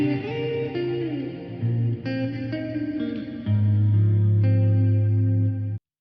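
An electric guitar plays sustained chords and single notes drenched in a lush, round reverb, the tones blooming and fading smoothly before cutting off.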